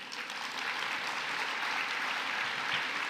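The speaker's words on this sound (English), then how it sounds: "Please give yourselves a big round of applause." A large crowd applauding at an alumni awards ceremony, a thick and even wash of clapping that holds at a constant loud level throughout.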